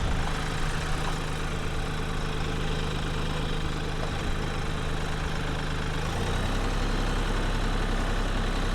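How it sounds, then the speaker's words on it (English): A tractor engine idles steadily on a homestead before potato planting, a close, continuous low rumble with a slight shift in tone near the end and no talking. "So let me hop on the tractor"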